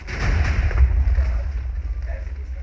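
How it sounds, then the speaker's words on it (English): Loud, continuous booming explosions in a pirate-themed video game roll together into a dense, heavy rumble with no pause, close and overwhelming. "there's lots of explosions happening. It's so loud."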